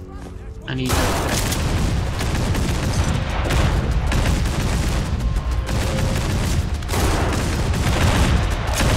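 Heavy gunfight in the Fallout 4 video game, a dense, loud barrage of overlapping shots and booms that starts abruptly and continues without pause to the end.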